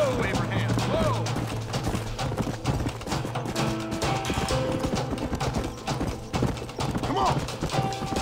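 Horses gallop in Red Dead Redemption on PS5, with rapid, dense hoofbeat clip-clops running throughout, an occasional whinny, and voices shouting over the action.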